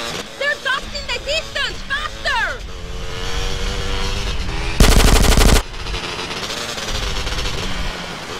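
Rapid automatic gunfire from a moving car in GTA San Andreas, one loud sustained burst of shots lasting under a second, set amid engine noise and speech before and after.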